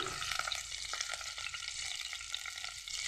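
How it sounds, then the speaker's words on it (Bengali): Potatoes frying in oil in a Bengali kitchen pan, a dense, steady sizzle with crackles and soft stirring scrapes, close and moderately quiet, no talking. "এখন আলুগুলি ভেজে নেব।"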